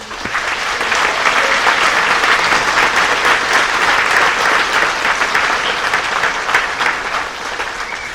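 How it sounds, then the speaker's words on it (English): Sustained audience applause fills a nursing pinning and candlelight ceremony, a dense, steady wash of many hands clapping at even loudness for about eight seconds with no voices over it. "I want to give a big round of applause to everyone"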